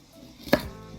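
An onion for cucumber salad is cut with a knife on a board. A single close, crisp chop lands once in otherwise quiet surroundings.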